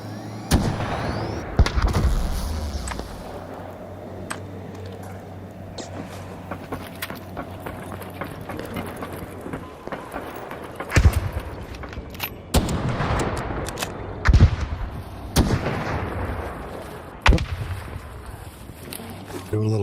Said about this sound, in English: that bombardier does not sound happy